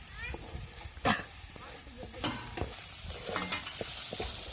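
Okra with masala and peanuts frying in a pan, stirred with intermittent scrapes and clatters over a soft sizzle, with voices talking in the background.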